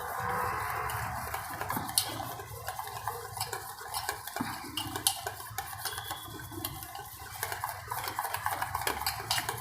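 Bhajiya batter of flour, spices and water being mixed by hand or spoon in a bowl, a busy run of wet slaps, squelches and small clinks, close and irregular, with no voices.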